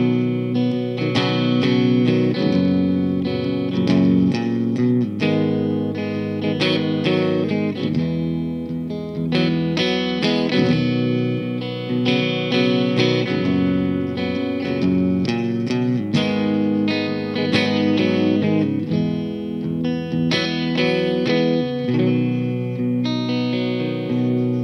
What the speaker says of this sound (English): Let's hear some clean tones with the TH30.